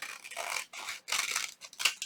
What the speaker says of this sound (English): trim around here very quickly just to get the general shape